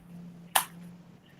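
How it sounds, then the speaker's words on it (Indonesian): One sharp, close hand clap rings out once over a steady low electrical hum during an online meeting of physical education teachers, followed by quiet. "Kita beri 2 tepuk untuk Kak Aji"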